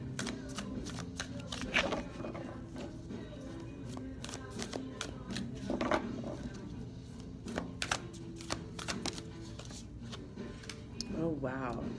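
Tarot cards are shuffled by hand with continuous soft riffling and tapping, close and steady, while a person talks alongside.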